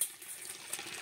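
Water runs steadily into a Bestway Steel Pro above-ground swimming pool, a soft continuous hiss and splash heard alone at a modest level for about a second.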